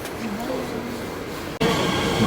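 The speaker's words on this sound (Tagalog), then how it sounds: "Dito na po yung train namin." Train pulling into a station early in the morning on a route to Dresden, Germany: a steady rumbling roar of the railcars with a low whine, surging louder near the end as the train draws close, with no talk over it.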